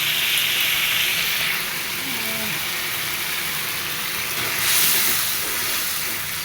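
Cooked spice masala with boiled potatoes frying in oil as the oil separates, giving a steady, bright sizzling hiss close by that swells slightly at moments and continues without pause.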